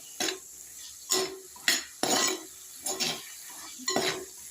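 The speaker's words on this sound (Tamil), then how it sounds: "இந்த இறாலை போட்டு எல்லாத்தையும் ஒன்றா வதக்குறேன்." Prawns for a curry are stir-fried in a pan, a metal spoon scraping and clinking against it in six evenly spaced strokes, close and crisp with a faint sizzle between.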